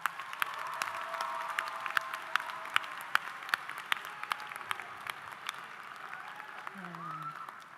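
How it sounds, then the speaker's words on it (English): Audience applause fills a high school commencement ceremony, a steady wash of clapping from a large crowd that holds at a moderate level throughout and thins toward the end, with faint voices underneath. "Students, please give your families a round of applause."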